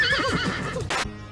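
A horse whinnies loudly in a Teenage Mutant Ninja Turtles cartoon scene, one rising, wavering neigh lasting about a second, then a short burst of noise before it cuts off.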